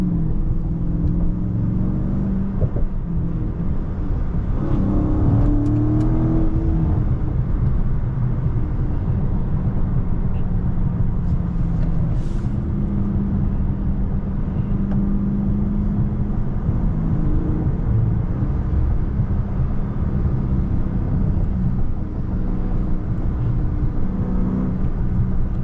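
A Dodge Charger Scat Pack rumbles steadily from inside the cabin with a few uneven surges where the engine stutters on a downshift from third to second, no voices heard.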